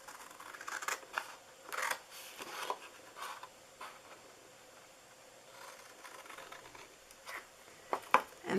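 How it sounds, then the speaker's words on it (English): Scissors cut cardstock for a rainbow treat box in short, separate snips and scrapes. The cuts are spaced by quiet gaps and sound close and fairly soft. "You're going to actually cut this whole, these 4 right here off."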